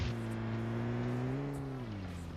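A car drives in the video game PUBG, its engine a steady, close drone that climbs slightly in pitch and then drops as it eases off, with no talking.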